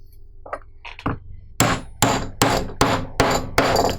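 A 4-prong stitching chisel hammered through 8-9 oz leather onto a mat, with a few light taps and then six loud, evenly spaced sharp whacks, close and ringing.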